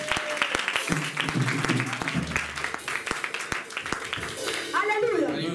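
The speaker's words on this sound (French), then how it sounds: "Let us clap for the Holy Spirit." Congregation clapping for the Holy Spirit at a church service, a dense run of hand claps mixed with voices and music, loud and steady throughout, with a few sharp individual claps standing out.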